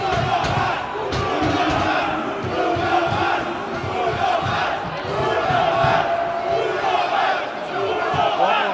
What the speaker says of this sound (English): you can hear the crowd chanting, "Uno más."